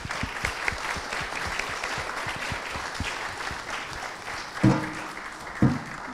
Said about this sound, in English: So big applause to the ministers